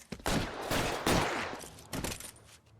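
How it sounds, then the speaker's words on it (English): Rapid bursts of gunfire crack through a shootout in the 1940s Los Angeles crime game L.A. Noire, several loud overlapping volleys in quick succession with brief gaps between them. "Shots fired."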